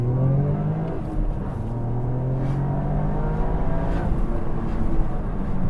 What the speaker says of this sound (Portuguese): vamos puxar só um pouquinho aqui a primeira e a segunda